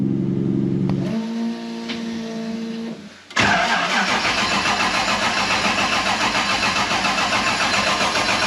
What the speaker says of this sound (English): E85 car starts like a dream.